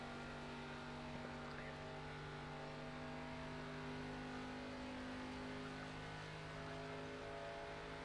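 Simulated race car engine from the iRacing video game at Daytona, a steady droning engine note running continuously beneath commentary voices.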